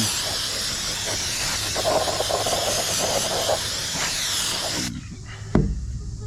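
Brake cleaner sprayed from an aerosol can onto a Ford F-150 brake rotor during a brake job: a loud, steady, close hiss for about five seconds, then it cuts off, followed by a brief clunk.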